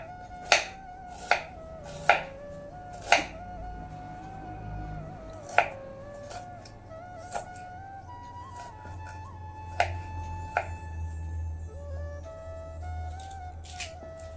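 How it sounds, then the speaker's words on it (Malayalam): A knife chops a large piece of ginger into small pieces on a board for a crab curry, with a run of sharp, close strikes at first and then scattered single cuts over a faint tonal background. "നല്ല വലിയ കഷ്ണം ഇഞ്ചിയാണ് എടുത്തിരിക്കുന്നത്. നല്ല ചെറുതായിട്ട് മുറിച്ചെടുക്കണം."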